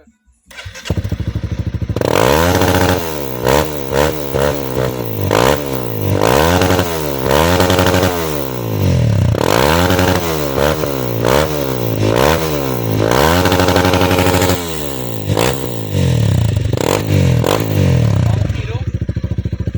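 Honda CRF300L motorcycle engine after tuning at a track, loud close revving in repeated surges and drops, rising and falling pitch with a brief pause, voices faintly underneath.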